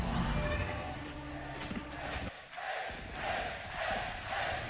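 A live esports crowd at a tactical shooter match cheers as a player closes in on an ace. A loud roar of voices swells, dips briefly, then surges back in rolling waves.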